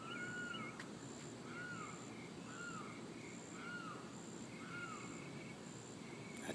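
An unidentified bird calls repeatedly outdoors during a walk, giving a series of evenly spaced, fairly faint rising-and-falling notes about once a second over a steady ambient hiss.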